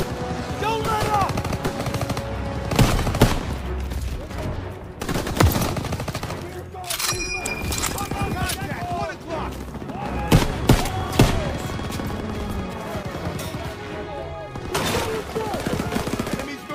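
Call of Duty WW2 battlefield with heavy machine gun fire: dense, loud bursts and rapid shots rattle across the whole stretch, joined by sharp single gunshots, with game voices shouting over the firing.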